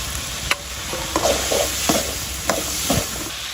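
Chopped onion added to hot oil with turmeric, a continuous close sizzle broken by a few sharp spatula taps and stirring scrapes at an irregular pace.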